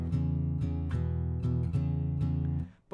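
Beginner-style guitar strumming of a 12-bar blues rhythm pattern, with evenly spaced chord strokes repeating roughly twice a second, played alone and up close before cutting off near the end.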